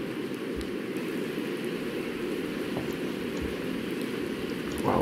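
Rain falling in the video game Project Zomboid, a soft, even hiss of steady rainfall with occasional faint drops, continuous and quiet with no speech.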